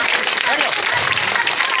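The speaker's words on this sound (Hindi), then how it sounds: "तालियां बजाए, तालियां" Crowd clapping at a biscuit-eating contest, a short burst of steady applause with a voice speaking over it.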